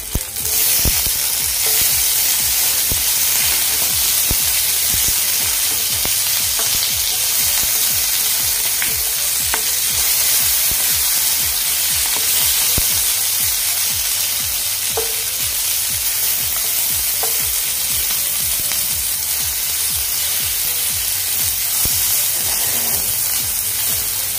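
Onion and tomato sizzle steadily in a pan as the base for soya chunks masala, a continuous loud frying hiss with occasional stirring scrapes and no talking.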